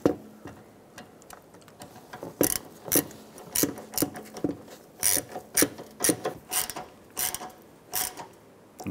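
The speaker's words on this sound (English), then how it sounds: "We'll go ahead and get the screw started." A hand ratchet drives a screw to fasten the bumper liner on a 2006-2013 Chevrolet Impala, giving close, crisp clicking in uneven bursts that quicken toward the end, with no talking.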